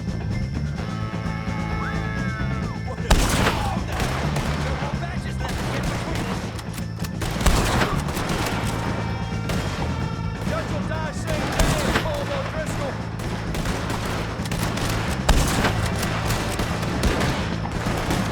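Gunfire during a shootout against O'Driscoll gang members at Beaver Hollow in Red Dead Redemption 2, with repeated sharp rifle and pistol shots cracking over a steady dramatic backdrop while voices talk and shout.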